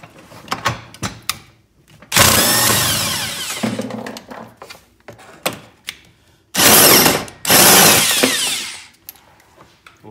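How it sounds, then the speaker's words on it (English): Electric impact wrench removing 19 millimeter seat bolts on a Can-Am X3, several loud close bursts of rapid hammering a second or two long, separated by clicks, handling noises and quiet gaps. "We're gonna use an electric impact to speed this process up."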